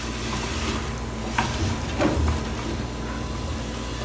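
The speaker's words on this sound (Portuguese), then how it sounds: "Vou deixar esses temperos refogando um pouquinho aqui na panela." Seasonings sautéing in a pan over medium heat for everyday Brazilian beans, giving a steady low sizzle and hiss with a couple of brief louder crackles, no talking.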